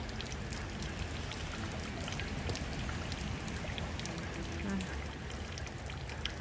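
Heavy rain pours steadily in Savannakhet, Laos, a dense even hiss of falling water with scattered drip patters, close and continuous throughout with no voices.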